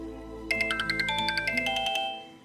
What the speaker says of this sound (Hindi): ओह, शाम का फोन है।